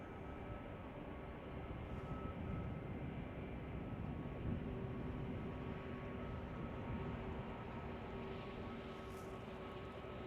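A Western Global cargo plane rolls toward the runway at Chicago O'Hare, its engines a steady distant roar with a faint droning hum that holds without build-up, quiet and far off.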